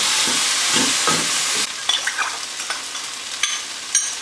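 Balti curry paste sizzles loudly in a hot pan for British Indian restaurant-style chicken balti, with a steady frying hiss, then quieter scraping stirs and light utensil taps as the sizzle eases.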